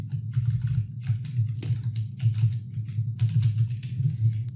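Someone typing on a computer keyboard while entering hacking commands, with quick, close, irregular key clicks over a steady low background hum.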